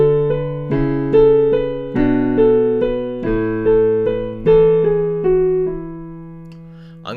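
Piano plays a song at full tempo: a steady run of sustained chords and melody notes, struck in a regular rhythm, close and clear, with no talking over it.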